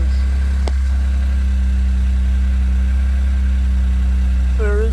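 A 2024 Toyota GR Corolla idles loudly with its exhaust valve open, giving a steady, close, droning rumble throughout, with a brief rising whine near the end.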